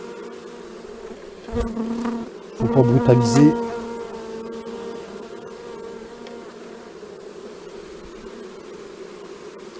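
Honeybees buzz loudly close by around a hive frame, a dense droning hum that swells in bursts, with a brief spoken remark over it.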